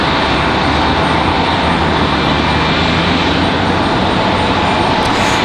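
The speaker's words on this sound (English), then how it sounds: "that was American Airlines in 1904, coming in from Charlotte on that A321" American Airlines Airbus A321 jet airliner arriving at Raleigh-Durham, a loud, steady broadband engine roar close by that fills the entire short stretch.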